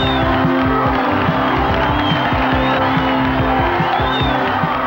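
Large crowd of about 30,000 fans cheering at a cycling race, the Coors Classic, a dense continuous roar of voices and noise at steady loudness throughout, with a low rumbling undertone.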